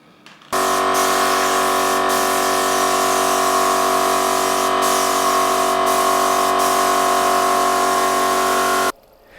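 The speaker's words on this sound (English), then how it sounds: "I was also spraying the feature wall at the same time" Paint spray gun applying Valspar premium wood and metal paint to a feature wall during a built-in wardrobe build, a steady close hissing drone with several harmonic whine tones running unbroken for about eight seconds with no voices.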